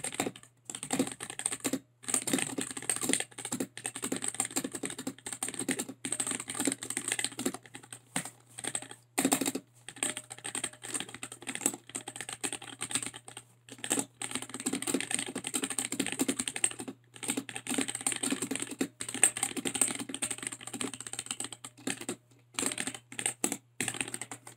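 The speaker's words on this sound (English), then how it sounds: "So here's a type and test for you guys." Continuous typing on a Womier K66 mechanical keyboard with Gateron switches, a steady stream of close, crisp keystrokes with short pauses and a faint ping, no voices.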